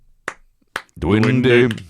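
Two sharp, isolated claps ring out about half a second apart, each short and crisp, followed by a person talking.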